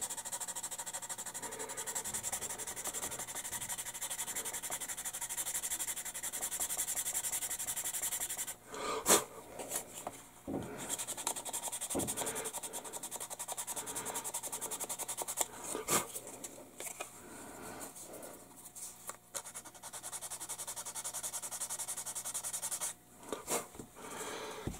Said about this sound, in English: Give it a little more aggressive sanding.